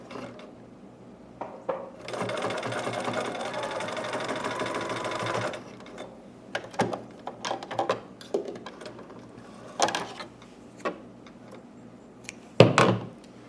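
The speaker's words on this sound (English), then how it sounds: "I'm just going to baste this right across there real fast with the machine" A sewing machine stitches a quick basting seam across fabric for a dragon or unicorn hood, running in one continuous burst of a few seconds, then stops and is followed by scattered clunks and knocks of handling.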